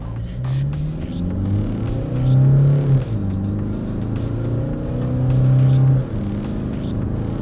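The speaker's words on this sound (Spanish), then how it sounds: "ahora vamos a comprobar la aceleración. Verifico que esté en 2H, modo Power, y vamos a fondo." A Toyota Hilux pickup in 2H Power mode under full-throttle acceleration, the engine rising in pitch through two strong pulls with a gear change between them, heard from the cabin.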